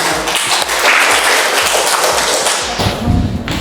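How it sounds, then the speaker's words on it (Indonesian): Audience applause in a government procurement mentoring session, a room full of claps with rhythmic thumps underneath, swelling louder near the end. "Tepuk tangan kita semua"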